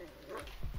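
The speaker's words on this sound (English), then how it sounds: "why is there a dog on every corner, bro?" A dog in the survival game Rust gives a couple of short, faint barks near the end of a brief moment, low and somewhat distant against quiet game ambience.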